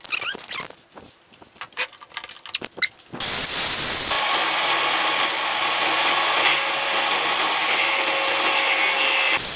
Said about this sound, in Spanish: Voy a cortar un trocito.